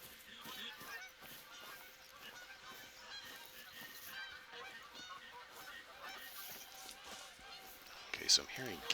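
Geese honk repeatedly among the ambient wildlife of the hunting video game The Hunter: Call of the Wild, faint and distant, in a steady layered chorus with a sharper call near the end.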